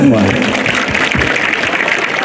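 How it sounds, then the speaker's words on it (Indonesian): An audience of students at a school camp applauds in a dense, loud, continuous wash of clapping that holds steady for a couple of seconds, with a voice briefly heard at the start. "Tepuk tangan untuk semua."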